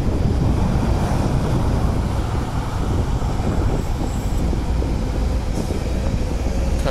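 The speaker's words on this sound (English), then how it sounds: "gonna just watch these trains come through" Loud, continuous rumble and roar of a Mandurah Line passenger train rolling past close by, with heavy wind buffeting throughout and no clear breaks.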